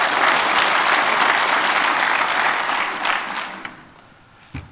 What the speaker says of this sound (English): Let's give everybody a round of applause and the sales staff there.